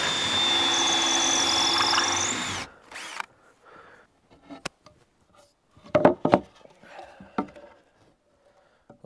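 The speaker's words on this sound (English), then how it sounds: "I'm gonna go ahead and come in from the backside here and drill those in." A power drill bores mounting holes from the back side of a board for a JL Audio amp install on a 2006 Mastercraft Maristar boat: a loud, steady whine for about two and a half seconds, then it stops, leaving faint clunks and handling noises.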